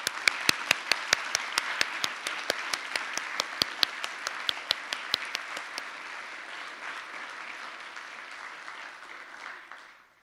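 Applause from the audience at a peace oratorical contest, opening with a few loud, sharp distinct claps over a steady wash of clapping that thins and fades out over about ten seconds.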